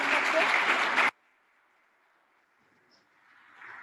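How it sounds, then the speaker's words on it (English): An audience breaks into loud applause to welcome someone speaker, a senior lecturer in planning and management, at a DIET event. The clapping lasts about a second and then cuts off to near silence. "Let's welcome her with a big round of applause."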